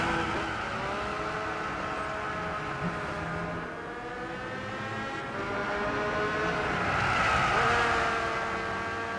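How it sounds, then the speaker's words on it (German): A race car's engine drones steadily while its tires squeal through a drift in Gran Turismo 6 at Spa, the pitch sweeping up and down as the car slides through the corner, with no talking over it. "Ja, hier nochmal ein kleiner Drift."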